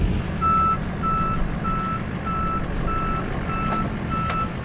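A tow truck backing up sounds its reversing alarm, a steady run of evenly spaced electronic beeps repeating about every half second over a constant low engine rumble.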